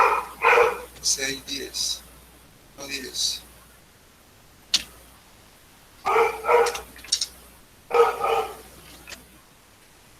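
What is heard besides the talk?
dog barking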